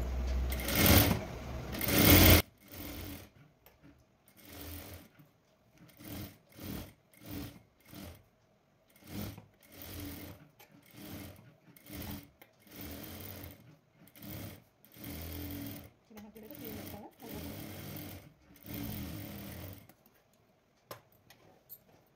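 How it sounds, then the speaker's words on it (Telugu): A sewing machine stitches around the edge of a lined blouse in repeated short bursts, with rapid close whirring runs separated by pauses as the fabric is turned, and a louder opening burst. "ఇది కూడా ఇదే విధంగా చుట్టూ కుట్టేసుకోవాలి."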